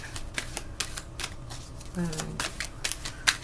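Angel cards are shuffled in quick, crisp riffling bursts, repeated in a loose rhythm, close by, with a voice speaking over them.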